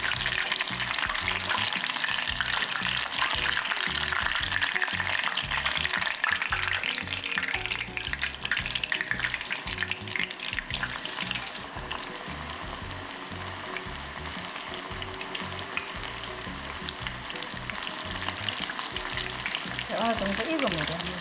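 Dense, continuous crackling and bubbling of shiitake mushrooms deep-frying in hot oil in a small deep pot, steady and close, with a brief louder surge near the end.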